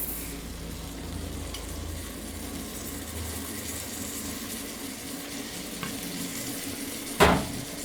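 A ketchup and soy sauce mixture stirred in a hot pan for masala fries, giving a continuous even sizzle, with a sharp clank of the utensil against the pan near the end.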